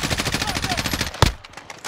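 Gunfire in Call of Duty Warzone: a close, rapid burst of automatic assault-rifle fire rattles steadily, then a single sharper, louder shot cracks out and the sound drops away.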